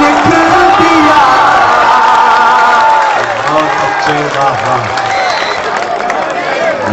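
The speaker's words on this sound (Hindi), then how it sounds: "आप बहुत कमजोर ताली बजा रहे हैं।" A large crowd at a poetry gathering in Mau claps and cheers in a dense, continuous roar, with whoops and shouts rising over the applause throughout.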